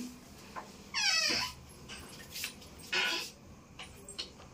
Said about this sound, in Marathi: कुत्रे भोकत आहे